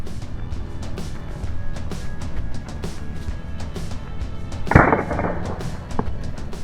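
An airgun shot strikes a pigeon at about 42 meters during an outdoor pigeon hunt: one sharp, loud crack near the middle, set against steady outdoor background noise.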